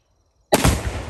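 Explosion blowing open a metal can, a single sudden loud close blast that cuts in from silence and leaves a rough, sustained rumble of debris and echo.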